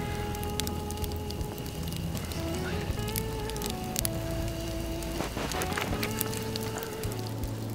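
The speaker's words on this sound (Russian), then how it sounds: "костер у нас горит не на снегу, а на поддоне" Campfire burning on a metal tray set over snow outdoors, a steady crackle and hiss with scattered sharp pops, continuous and fairly close, with faint tonal hum underneath.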